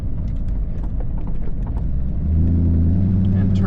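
A 1932 Ford hot rod drives along, its engine rumbling loud and close with a low, steady drone that deepens and strengthens toward the end as it pulls harder.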